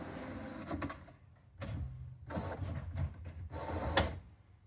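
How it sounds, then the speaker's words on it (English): A Canon TR8620a inkjet printer runs its alignment routine, the print head shifting left and right in short, quiet mechanical whirring bursts separated by pauses, heard up close. "This one seems to run a little bit quieter with all the, the print head is shifting around left and right."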